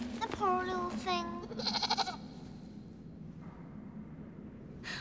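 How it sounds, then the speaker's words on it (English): A goat bleats several times at close range, wavering cries in quick succession followed by quieter background noise. "With the goat and Bruno?"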